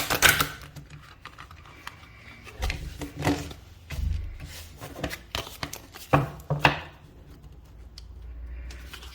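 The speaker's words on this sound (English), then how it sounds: "I'm just going to give this a bit of a shuffle." Crisp riffling bursts of a card deck being shuffled, several quick flurries with short pauses between, close and fairly quiet.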